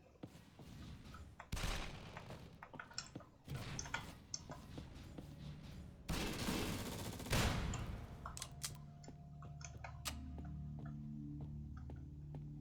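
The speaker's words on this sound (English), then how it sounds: "I just need to keep the guns firing." Rapid bursts of gunfire and sharp shots in the video game Jupiter Hell, with several loud volleys, then quieter ticking and tonal game sounds toward the end; no talking.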